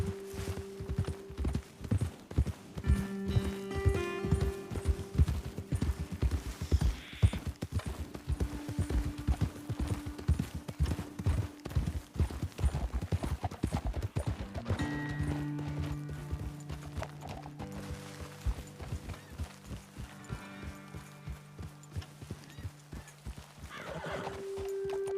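Horses ride in a Red Dead Redemption game scene: steady clip-clop of hooves with neighs and whinnies over a continuous musical drone, close and busy throughout, slowing near the end.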